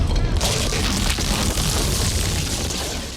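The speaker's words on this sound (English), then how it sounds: "a lot of those first sounds you hear of the floor splitting are really just rubbing on a balloon" Earthquake floor-splitting effect for an Indiana Jones film, made by rubbing an inflated balloon, comes out as a dense, loud rumbling crackle with squawking grinding texture that slowly fades, under faint talk.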